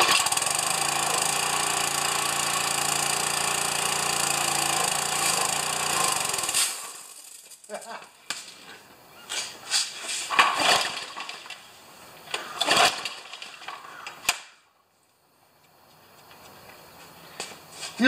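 An old Briggs lawn mower engine runs loud and steady with a dense, continuous drone for about seven seconds, then cuts out, leaving scattered clunks and rattles before a brief quiet.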